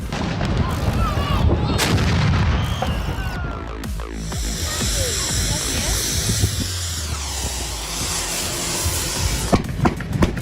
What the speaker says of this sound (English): Thousands of people from across the country gather here to explode carbide using special cannons, putting on a spectacular show.